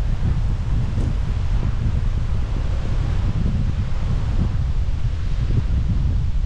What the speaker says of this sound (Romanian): bate un vânt, bate vânt prea tare